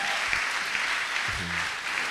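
A congregation at a church service applauds to honor God, a dense, continuous patter of many hands clapping together, filling the whole moment with a few brief low vocal sounds underneath.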